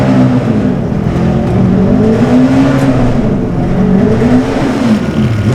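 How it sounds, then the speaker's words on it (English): Honda 250 racing motorcycle at the Senior Classic TT, its engine note holding loud and close, with the pitch wavering up and down through gear changes and throttle shifts. "this is Bruce Anstey's 250 Honda, entered by Patrick Motorcycles."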